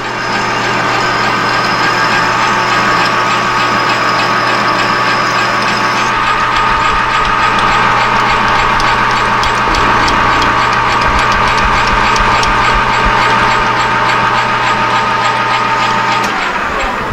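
A machinist drilling a deep hole in metal for a golfing tool produces a loud, steady machine whine and grinding drone that runs almost unbroken, shifting in tone partway through before stopping near the end.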